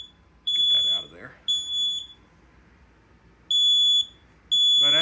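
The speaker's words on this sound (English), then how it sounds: "when the smoke detector activated, it did 3 blasts because this is on zone 3" A zone 3 smoke detector blares loud piercing tonal alarm blasts during a fire alarm system test, two early blasts then two more after a gap, with a brief rustle or voice under the first.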